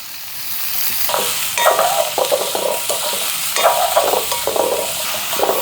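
Leeks sautéed in a pan, a continuous sizzle broken by repeated scraping strokes of a spatula stirring close up.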